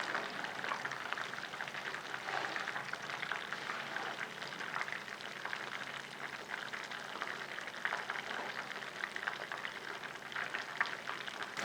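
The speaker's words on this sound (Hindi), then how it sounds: "बाकियों को भी हम इसी तरह फ्राई कर लेते हैं।" Chicken pieces fry in hot oil with a steady, dense sizzle and crackle that keeps going without a break, close and moderately loud, with no talking.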